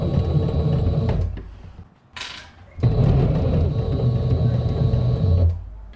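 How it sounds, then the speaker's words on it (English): A home sewing machine stitches fabric in two close, steady whirring runs separated by a short pause with a faint rustle, and no talking. "But I'm still making sure not to sew this side closed."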